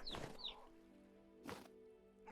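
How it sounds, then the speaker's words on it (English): Chicks in a video game give high, short cheeps, two quick ones at the start followed by more bursts of chirping over a low background hum. "Oh wait, I hear a chick."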